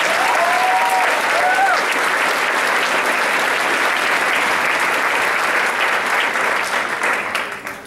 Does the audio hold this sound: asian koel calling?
no